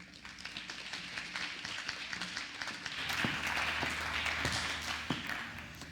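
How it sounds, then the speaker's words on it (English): A school auditorium audience at a TEDx event claps, a soft scattered patter of hands that swells midway and continues throughout. "Can we all give another round of applause to Megan, Alana, and Karina"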